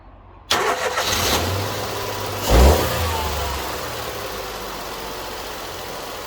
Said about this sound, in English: Now let's see if the car starts